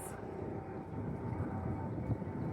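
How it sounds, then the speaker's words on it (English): A steady low rumble of a helicopter engine drones continuously in the distance, faint and unchanging throughout. "I think I hear either helicopter, maybe."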